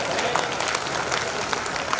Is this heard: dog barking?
no